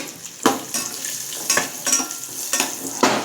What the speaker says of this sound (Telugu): ఇప్పుడు కిస్మిస్ కూడా వేపుకుందాం